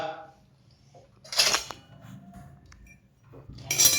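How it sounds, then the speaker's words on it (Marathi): A frying pan is set down on a gas stove for egg katka masala, giving a bright metallic clang near the middle and another at the end, close by over a quiet kitchen background. "आता गॅसवरती आपण पहिले फ्राय पॅन ठेवूया"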